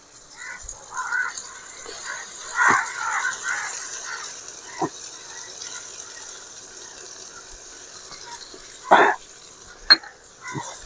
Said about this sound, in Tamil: அடுத்து நம்ம இஞ்சி பூண்டு பேஸ்ட் போட்டுக்கலாம்